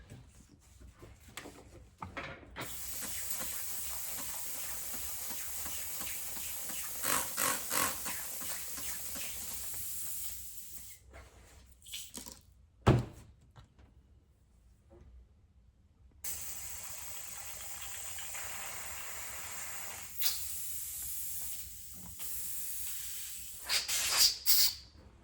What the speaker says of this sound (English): Let me clean my air gun out real quick before this ink starts drying up in it.